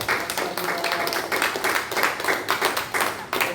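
A church congregation applauds the choir during a Korean worship service, with dense, loud clapping that pulses in a fairly regular rhythm throughout.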